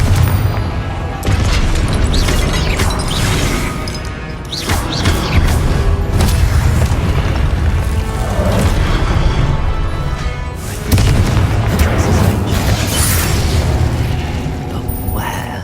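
Confringo blasting-spell explosions in the Hogwarts Legacy video game, loud repeated booms and crashing bursts over a dense, continuous battle din, with brief voice shouts mixed in.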